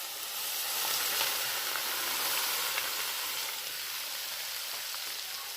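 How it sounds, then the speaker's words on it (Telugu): Boiling hot oil poured into a steel bowl sets off a loud, steady sizzle of crackling and hissing. Close and continuous, it fades only slightly over several seconds, with no talk. "మరుగుతున్న నూనె చూడండి, బాగా నూనె మరిగిన నూనె ఇందులో వేసుకోవాలి."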